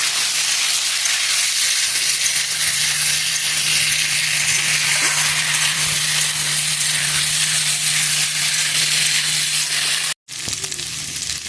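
Vegetables frying in a pan over an outdoor clay stove, a loud, steady, continuous sizzle with a brief dropout near the end.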